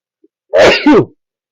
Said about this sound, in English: I have to sneeze, so.